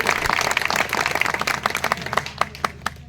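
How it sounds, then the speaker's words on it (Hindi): A crowd at a political speech event claps loudly and briskly in a dense burst, then the clapping thins out toward the end. "एक बार जोरदार तालियां"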